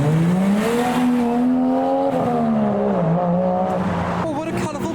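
A Toyota Chaser leaving a JDM car show at night, its engine droning steadily up close, the note rising and falling slightly, then fading under a brief faint rattle.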